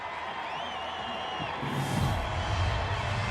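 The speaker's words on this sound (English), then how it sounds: "And the crowd is just going wild" An arena crowd cheers and whoops at a 2008 BYU at Utah NCAA women's gymnastics meet after a routine. The cheering is a steady, loud roar that swells midway, with a commentator talking over it.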